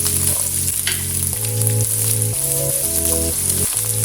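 Onion and garlic fry in oil in a kadai, producing a loud, even sizzle that holds across the whole stretch with no speech over it.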